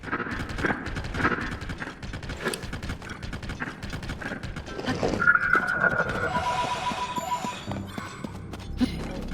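A horse in Zelda: Tears of the Kingdom gallops with rhythmic clip-clop hoofbeats, then neighs, layered with game music and mechanical sound effects, and no talking.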